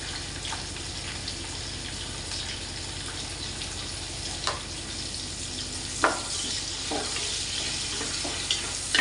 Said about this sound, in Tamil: இப்போது நறுக்கி வச்சுருக்க வெங்காயம் போட்டுக்கலாம்